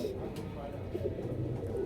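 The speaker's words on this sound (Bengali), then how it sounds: "প্রচুর পরিমাণে কবুতর থাকবো" Pigeons coo softly and repeatedly among a crowd of birds at a pigeon market in Narayanganj, with steady low murmuring and faint chatter running throughout.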